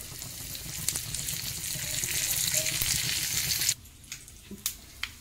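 Asafoetida and curry leaves hit hot oil with a steady, fairly loud crackling sizzle for several seconds, then it cuts to quieter room sound with a few soft knocks.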